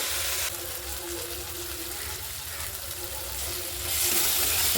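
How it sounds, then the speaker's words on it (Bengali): Spice paste with turmeric and dry chilli powder frying in a pan, a steady close sizzle with faint stirring scrapes that swell louder near the end, no talk over it. "এখন মশলাটা কষিয়ে নেব।"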